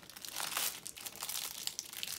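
Plastic packaging crinkles and rustles close by as it is opened, a dense, continuous crackle with brief louder crunches and no speech.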